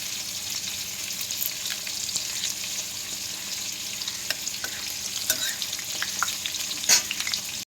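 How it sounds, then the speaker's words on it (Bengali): Whole garam masala spices sizzle and crackle steadily in hot oil for a Bengali coriander chicken, with a faint stir or clink near the end and no talking. "তাই আমি এখন গোটা গরম মশলা ফোড়ন দিয়ে দিচ্ছি"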